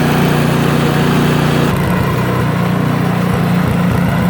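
A Craftsman snowblower engine running steadily after start-up, a loud continuous droning hum up close whose pitch shifts slightly partway through, with no talk.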